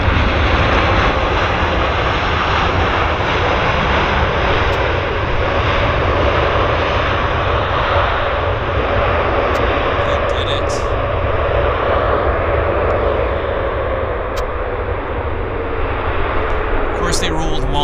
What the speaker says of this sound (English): Nice sink rate. Smooth landing.